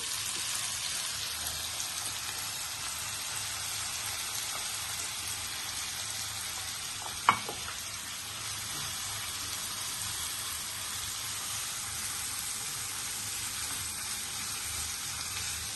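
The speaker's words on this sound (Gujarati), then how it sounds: "હવે બધા આપણે જે આ બોઇલ વેજીટેબલ્સ છે એ આપણે ઉમેરી લઈશું" Boiled vegetables sautéing in a pan for Manchurian biryani give a steady, moderate sizzle with a soft hiss that runs the whole time. One brief knock comes near the middle, and no one speaks.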